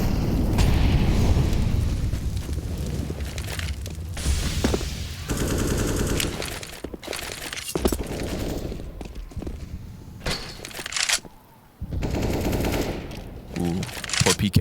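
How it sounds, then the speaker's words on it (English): Frag grenade blasts and bursts of rifle fire in a Counter-Strike match on the Nuke map, with booms and rapid gunfire crackling over continuous commentator talk. "Frag just sails through, finds him perfectly, half the health gone"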